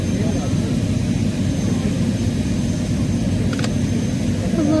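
An IndiGo passenger airplane's jet engines give off a loud, steady roar, dense and low, that fills the whole stretch. The engines sound heard from inside or close by, with muffled voices mixed in.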